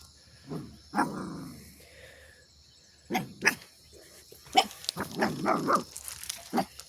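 Hungry farm dogs on a farmhouse in the morning give short barks and low growls at moderate distance, scattered in a few bursts over faint background noise.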